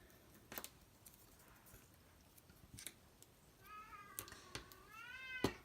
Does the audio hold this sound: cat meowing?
yes